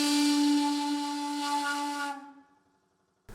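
A cannery steam whistle blows a strong, steady harmonic tone for about two seconds, then fades out quickly, leaving near silence.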